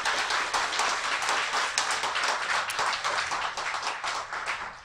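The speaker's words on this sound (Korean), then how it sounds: "박수 부탁드립니다." Studio audience at a Korean political talk show breaking into applause, dense, steady clapping filling the full five seconds with no voices on top.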